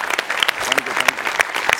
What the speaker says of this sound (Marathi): एकदा नमा आणि प्रसादसाठी जोरदार टाळ्या.